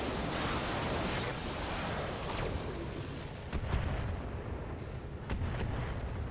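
Mech weapons in the video game Battletech fire on a turret, a dense rumbling barrage of booming blasts and sharp cracks with a few distinct shots standing out, moderately loud and continuous.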